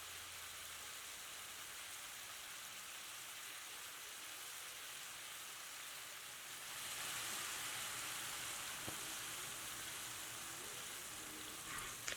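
Shrimp sizzling steadily in a hot pan, a broad continuous hiss that grows a little louder partway through, with no talking.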